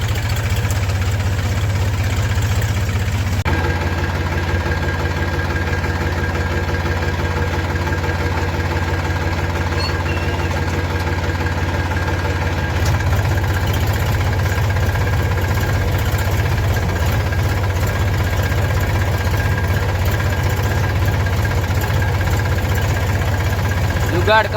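A farm tractor's engine idles steadily and close by, with a continuous low rumbling drone and a faint knocking vibration that does not let up for the whole stretch.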